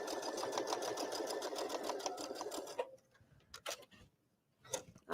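A sewing machine top stitching a zipper seam on a garment or bag runs in a fast, steady ticking whir for about three seconds, then stops, leaving a few quiet clicks and handling sounds.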